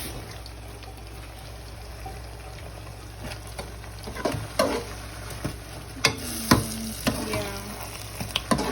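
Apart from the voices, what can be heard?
onions sautéing in a pan for molokia sauce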